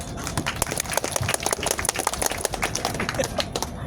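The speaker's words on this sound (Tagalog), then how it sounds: "Malakas kami sa palakpak." Audience at a Christmas party at a maritime academy in the Philippines claps steadily, a dense crowd applause of many overlapping hand claps that holds throughout without letup.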